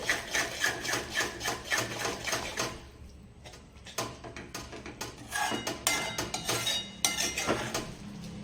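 Fenugreek and gram flour curry being stirred in a metal pan, a steady run of close scraping clinks from the spoon against the pan with a brief pause partway through and no talking.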